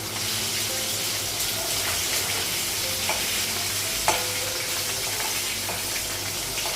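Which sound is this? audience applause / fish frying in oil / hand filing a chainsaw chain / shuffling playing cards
fish frying in oil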